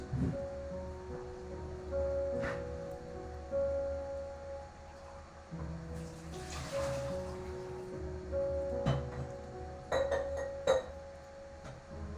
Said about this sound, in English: Let's wash out that glass.